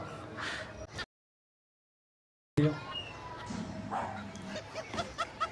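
A dog gives short yips and barks amid a noisy, chattering scene, with a few sharp bursts near the end and a brief silent gap early on; other sounds and possible voices fill the background.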